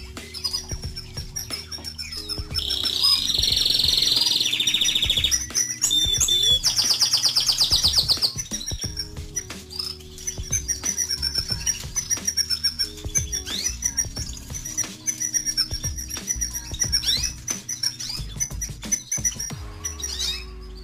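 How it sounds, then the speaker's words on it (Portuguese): Male and female frilled canaries, including a young bird, chirp and trill close by on a morning, with bright repeated calls, sustained warbling runs and occasional squawks and rustling. "Aqui eu tenho um canário frisado, canário macho, tá?"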